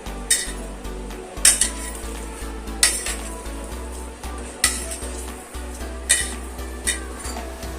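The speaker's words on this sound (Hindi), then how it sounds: "अब हमें पनीर को सबसे पहले स्मूथ कर लेना है।" Paneer is crushed and smoothed in a bowl with a utensil, giving repeated clinking scrapes and taps against the dish at a steady, unhurried rhythm, close by and with no talking.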